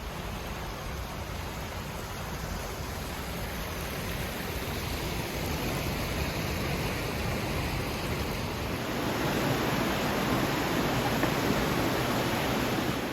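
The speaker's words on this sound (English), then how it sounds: "Just taking a little rest stop at this waterfall here." Steady, broadband rush of a waterfall at a rest stop on the Annapurna Base Camp trek between Sinuwa and ABC, close and continuous, swelling slightly louder near the end, with no voices.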